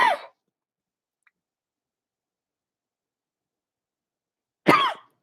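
Two separate coughs from a woman, one at the very start and another near the end, with near-total silence between them.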